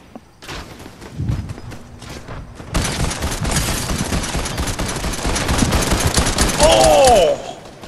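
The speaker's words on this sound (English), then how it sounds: "Some gunfire over this way." Rapid bursts of automatic gunfire crackle through a Fortnite firefight, starting sparse and distant, then building into a dense, loud, continuous fusillade with thumps and a rising whine near the end.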